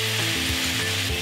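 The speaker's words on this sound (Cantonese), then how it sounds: "炒多一陣至收汁" Close, constant sizzling as beef short ribs are stir-fried in a wok with sha cha sauce, the sauce reducing while a spatula scrapes and turns the pieces in a few regular strokes.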